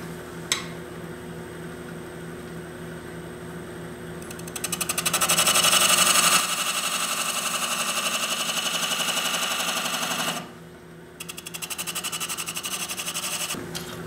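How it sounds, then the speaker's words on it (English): A skew chisel smoothing the surface of a wooden long-stem goblet spinning on a lathe, a steady mechanical hum and hiss that swells loudly mid-way, drops briefly, then resumes with a rapid ticking texture. "I hope I can clean that up with my skew chisel"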